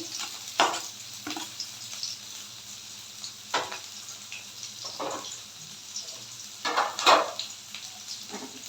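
Chopped onions go into hot oil with fried rui fish while cooking a fish and eggplant curry, giving a continuous close sizzle broken by several bursts of stirring and spatter.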